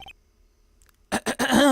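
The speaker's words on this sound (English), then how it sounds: "Maybe I should clear my throat?" A short, gruff throat-clearing sound effect from the Phoenix Wright: Ace Attorney video game, a few loud rasping bursts close up after near silence.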